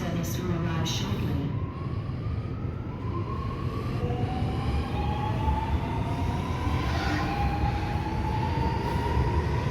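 A metro train rumbles into an underground platform on the line to Tallawong, a steady loud roar with rising and falling high tones as it arrives, under faint station announcements.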